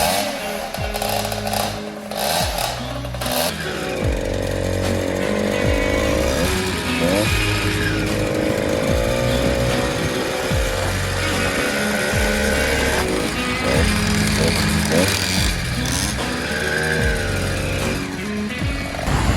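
A motorized bicycle's small two-stroke engine fires up and keeps running, a loud, close, buzzing putter that revs up and down in uneven surges across the whole stretch.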